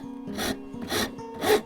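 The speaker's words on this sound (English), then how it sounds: "Again, just use the rasp" A wood rasp rounding over the edge of a wooden coat hook, three distinct close rasping strokes at a steady rhythm, each a short gritty burst with quiet gaps between.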